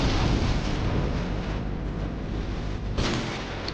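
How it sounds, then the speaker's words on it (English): A lightning strike sound effect in the Lightning Storm game show: a loud, sustained rumbling crash of thunder that fills the whole clip, with a fresh surge near the end. "Let's see the lightning strike number 1."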